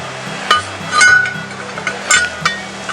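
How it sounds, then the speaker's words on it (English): A metal lid goes back onto a camp Dutch oven over a fire, with a few sharp metallic clinks and knocks up close, then a quieter stretch and more clanks. "Put our lid back on."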